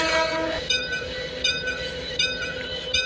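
Train in the Bangladesh Train Simulator video game, setting off toward Chittagong under a 25 km/h speed limit: a loud horn-like tone rings at the start, then a steady rolling rumble with soft rhythmic clatter, and no voices.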